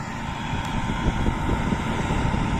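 A KhTZ-17221 tractor engine runs in a frosty field during ploughing with a PLN-5-35 plough, a steady loud low rumble mixed with wind noise, with no pauses.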